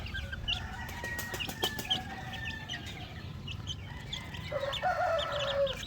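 Oriental fowl chickens kept together in a cage cluck and call, with a rooster crowing and a brief flutter of wings against a constant background hiss.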